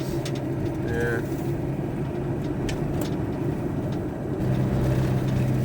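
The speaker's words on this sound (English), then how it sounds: "was it a truck or something up there?" A truck passes on a street at night in Slateford, Edinburgh, a steady low engine rumble and road roar that swells toward the end, with people talking quietly over it.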